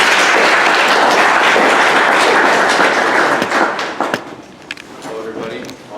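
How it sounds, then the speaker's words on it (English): Audience applause welcoming a speaker who recently graduated in Math Studies and Computer Science, a dense, loud wash of many hands clapping at once that thins and fades over the last couple of seconds. "Please welcome him with a round of applause."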